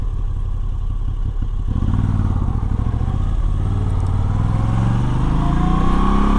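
Moto Guzzi V85 TT motorcycle ridden on a wintery road, its loud, close engine throbbing steadily and then rising in pitch as it accelerates, with wind rush over it.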